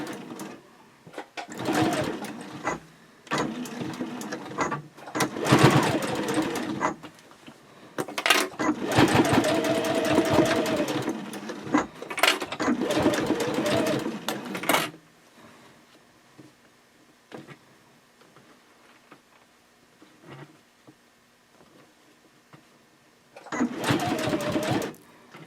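A home sewing machine stitching a 3/8 inch seam allowance at a 2.6 stitch length, running in several bursts of steady mechanical whirring and clatter, separated by quiet pauses; close and moderately loud.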